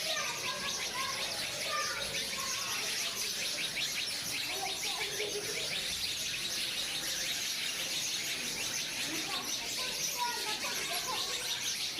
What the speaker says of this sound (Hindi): ये चिड़ियाँ देखें,